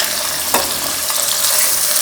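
Goat or mutton meat frying in a pot with garlic-ginger paste for aloo gosht, a steady loud sizzle with a brief stir scrape partway through, no voices.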